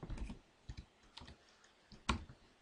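Computer keyboard keys clack in short, irregular presses during 3D modelling work, a few close taps followed by one sharper press, with no talking over them.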